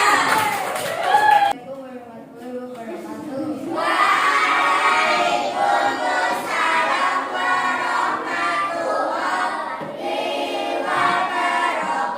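A school class claps for a student group presenting a diorama, with scattered clapping and children's voices building into sustained applause and chatter after a teacher speaks.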